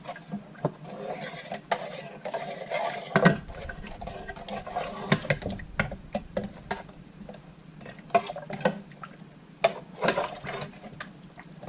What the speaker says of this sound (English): Let me give it a nice stir.